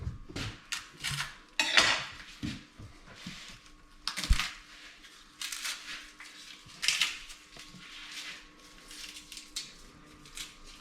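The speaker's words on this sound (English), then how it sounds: "we've got our garlic, roughly cut it, just like that in half" A knife chops garlic cloves roughly in half on a kitchen board, with sharp knocks and clattering of utensils and dishes in an uneven series of close, distinct hits.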